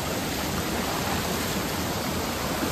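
Heavy water rushing down a waterfall during a monsoon outing, a dense, steady roar close by that fills everything with no pause and no voices over it.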